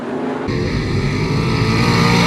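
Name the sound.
305 sprint car racing through turns 3 and 4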